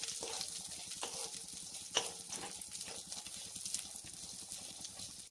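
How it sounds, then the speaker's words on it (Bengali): Dry fruits fry in hot ghee for rice flour laddu, a steady close sizzle broken by irregular scraping taps of a spoon stirring the pan, without talking. "ঘি যখনই একটু গরম হয়ে আসবে তখনই কিন্তু আমি ড্রাই ফ্রুটগুলো দিয়ে দিব একটু নাড়াচাড়া করে ছয় সাত সেকেন্ডের মতো একটু ভাজা ভাজা করে নেবো"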